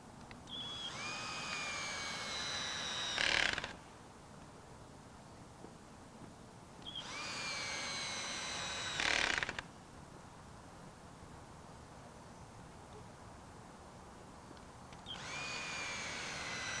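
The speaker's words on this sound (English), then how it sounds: "Attach them together by driving in 1 1/4 inch screws, these are the medium length screws, through the metal connectors and into the wood" A power drill driving 1 1/4 inch screws through metal connectors into wood for a greenhouse frame: three separate whining bursts of a few seconds each, each ending in a louder grinding moment as the screw seats, with quiet gaps between.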